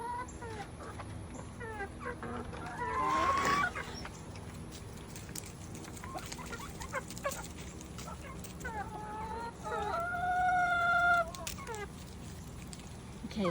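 Young chickens in a backyard flock cluck and chirp in a steady, busy chorus, with a few louder squawks rising above the low hum of the coop.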